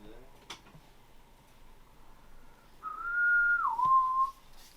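A short whistled melody, clear and close, rising then sliding down, preceded by a couple of faint clicks.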